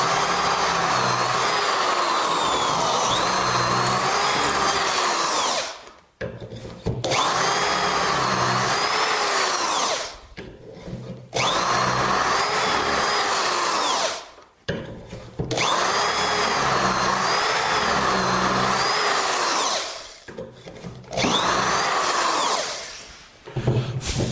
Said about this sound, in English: We're going to drill 3, 4 and 5.